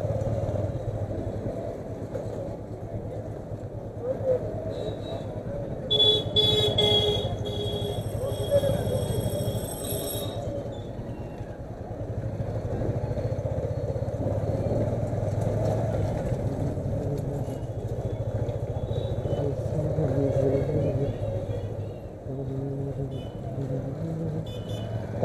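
A Bajaj Avenger 180 motorcycle engine hums and drones steadily through city street traffic in Faizabad, with a burst of high whining sounds partway through and someone talking over it.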